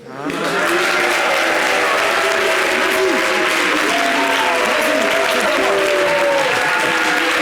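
A television studio audience applauds in a sustained, dense wave of clapping that swells in quickly and holds loud and steady to the end, with no one speaking over it.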